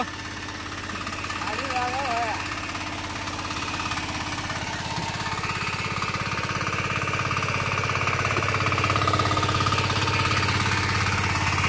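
A tractor engine runs steadily in a rain-soaked paddy field during rice planting, a continuous loud diesel throb with a rattling knock throughout, with a brief voice over it near the start.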